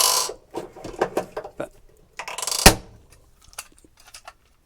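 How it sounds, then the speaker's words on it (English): A hand rivet tool setting rivets on a harness plate, heard as a series of close, sharp mechanical clicks and squeezes with one loud snap as a rivet pops, then quieter clicks, with a brief spoken word. "Using a hand rivet"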